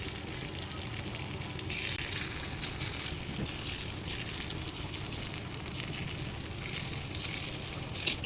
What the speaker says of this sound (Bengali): এবার এটাকে ছোট ছোট করে গরম গরম তেলের মধ্যে দিয়ে ভেজে নিতে হবে।